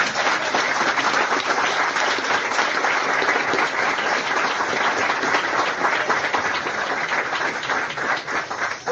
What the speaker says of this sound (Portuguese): Aplaude aí.